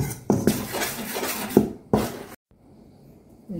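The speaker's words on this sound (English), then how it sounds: "So mixing properly the dry ingredients first." Dry biscuit ingredients being mixed in a bowl, with scraping, rubbing strokes and a few sharp knocks of a utensil against the bowl, ending in near quiet.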